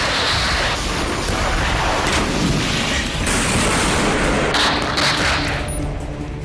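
Gunfire during an Israeli ground operation in Rafah, with soldiers firing from positions inside houses: dense, loud bursts and cracks of shooting layered over a rumbling, booming background throughout.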